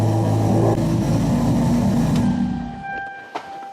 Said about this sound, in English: you can literally hear the turbo spin